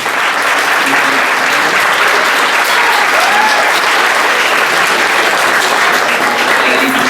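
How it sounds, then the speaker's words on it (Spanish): Sustained applause from a large audience at a book presentation, a thick, even wash of clapping that stays loud throughout. "Les pido un aplauso"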